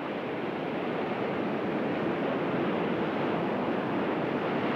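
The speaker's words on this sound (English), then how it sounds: "3-metre waves on the bar made a crossing almost impossible." Three-metre waves break over a sea bar off the Australian coast, a continuous dense roar of surf with wind rumble and no distinct individual crashes, loud and close with no voices.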